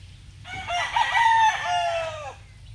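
A single rooster crow rings out loud and close, one long drawn-out call over a low background hum.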